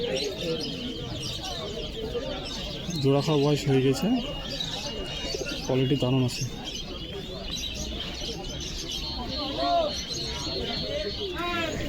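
Pigeons coo in short repeated bursts at a pigeon market, mixed with chirps. Someone talks steadily over them about the birds' quality and age.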